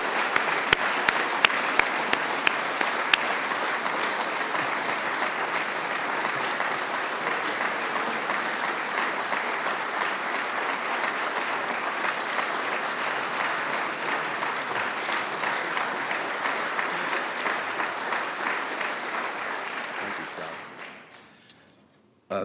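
Audience at an environmental leadership award ceremony applauding a recipient, dense steady clapping from a room full of people sustained for about twenty seconds before tapering off quickly.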